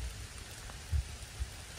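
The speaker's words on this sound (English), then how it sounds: "As the rains are coming down" Rain falling in woodland during a metal detecting outing, a soft steady patter with a couple of dull low thumps of drops.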